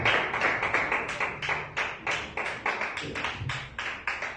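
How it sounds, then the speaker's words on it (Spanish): A church congregation claps together at a Sunday evening service, a steady run of sharp, close handclaps filling the whole stretch with no talking. "vamos a darle un fuerte aplauso a Cristo"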